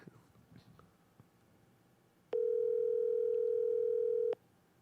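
A steady telephone ringback tone sounds for about two seconds mid-clip while someone calls a person during a podcast, loud and even against faint background murmur.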